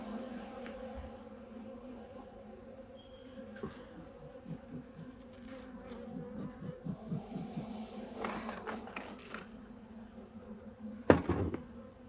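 Honeybee colony buzzing at a hive readied for winter, a steady close hum with fluctuating swells, a few brief knocks and a sharp clatter near the end.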